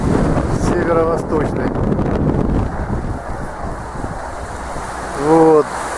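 A light northeast breeze buffets the microphone on Lyubimovka 2 beach, a low rumbling wind with faint surf behind it, while someone talks over it.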